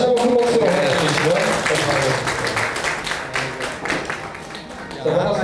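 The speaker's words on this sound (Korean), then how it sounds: "다시 한번 큰 박수로 보내주시고요." Applause from an audience at a political party members' meeting, steady and fairly loud clapping throughout, with a voice speaking over it at times.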